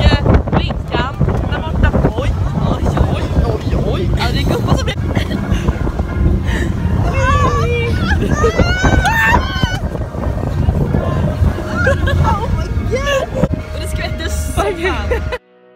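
Wind buffets the microphone aboard a boat on the water near Smögen on midsummer day, a loud continuous roar over engine and water noise, with people talking and calling out over it.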